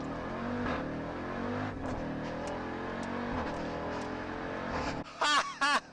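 A 2018 Jeep Grand Cherokee Trackhawk makes a launch-control start, its engine roaring steadily at high revs for several seconds before the sound cuts off and short squeaky bursts follow.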